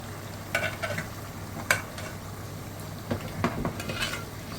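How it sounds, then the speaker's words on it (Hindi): Boiled meat stirred into a pot of thick haleem (khichra): several scraping, clattering spoon strokes against the pot, close and fairly loud, spaced irregularly over a low steady background. "Now we are mixing the meat"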